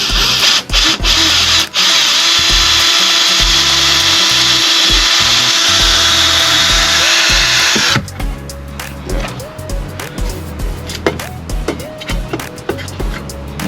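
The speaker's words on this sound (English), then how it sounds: "Now, let me put my screws in." A power drill whirs loud and close as it drives screws into wood, holding one long sustained run before stopping, followed by scattered clunks, taps and handling noises from the workbench.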